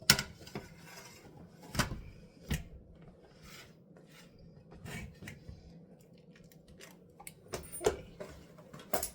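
A metal loaf pan holding a baked Christmas cake being flipped over onto a surface: quiet, close scraping and rubbing with several sharp clanks and taps spread out, a cluster near the end.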